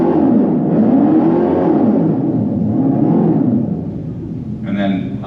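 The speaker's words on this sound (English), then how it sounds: "So now I'm going to go into drag mode, which will be the loudest." A Dodge Charger Daytona EV plays its artificial engine sound in drag mode, its loudest setting, as a loud, continuous rumbling drone that rises and falls in pitch. A voice briefly cuts in near the end.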